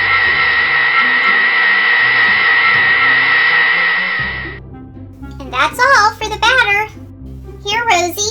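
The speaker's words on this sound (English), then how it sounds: "Turn on the mixer and mix." An electric mixer mixing milk whirs loudly and steadily for about four seconds, then cuts off, followed by a voice speaking over soft background music.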